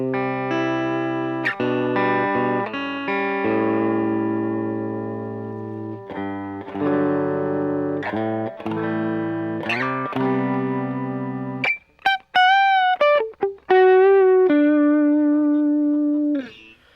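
Dry, unprocessed guitar signal with no effects, heard before reverb pedals such as the Chase Bliss Lossy, Mood and Lost and Found are switched in. Sustained chords are followed by single bent and slid notes, loud and close, with no talking.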